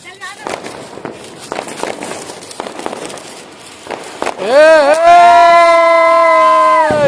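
Diwali firecrackers bursting in a string of sharp cracks and pops under chatter, then a loud whistling, sustained tonal firework takes over for the last two seconds.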